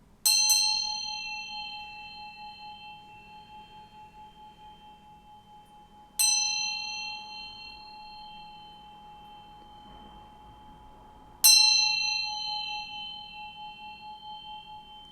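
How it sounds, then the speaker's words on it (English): A small bell rings three times, each a clear bright strike with a long shimmering ring that slowly fades, spaced about six seconds apart in a quiet room. "I'm going to ring this bell to bring in some good vibes"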